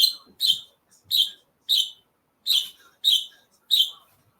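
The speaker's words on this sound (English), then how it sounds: "excuse the birds; they probably want to fly." Pet birds chirp indoors in a home, seven short bright bursts spaced about half a second apart, fairly close and clear against near silence.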